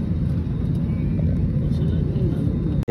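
Inside an airliner cabin on a Mumbai to Tirupati flight, a steady low engine rumble fills the space as the plane starts moving, with faint murmuring beneath it.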